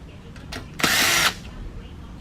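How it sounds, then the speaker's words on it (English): A power drill spins off a bolt on a Yard Machine 550E lawn mower, with a few short taps and brief whirs leading into one loud, close half-second burst, then quiet. "And drill that off."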